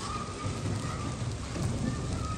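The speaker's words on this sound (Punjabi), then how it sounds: "ਬਾਰਿਸ਼ ਹੋ ਗਈ ਹੈ ਤੇਜ਼" Heavy rain falls during a sunny spell, making a dense, steady patter with small splashes. It stays fairly quiet and unbroken throughout, with no clear voices.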